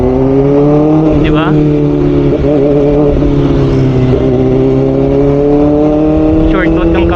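Kawasaki ZX-4RR inline-four sportbike engine droning loud and steady with rising revs and shifts throughout, close to the microphone, with wind rush and someone talking over it.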